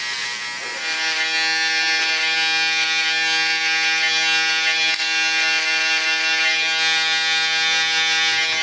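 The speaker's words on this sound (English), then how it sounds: "I use the shaver to get it short enough that the shaver actually catches the hair and can" An electric shaver buzzes continuously up close in a barbershop, its steady motor whine shifting slightly as it moves through hair on a head.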